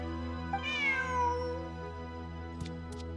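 A cat meows in the video game Genshin Impact, giving one drawn-out, rising and falling meow near the start over a steady background hum, then two faint short clicks near the end. No one speaks.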